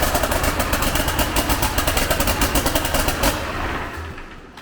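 A Cummins diesel swapped into a Ford fires up quickly and settles into a loud, close, rapid rhythmic clatter, then the revs fall away toward idle near the end.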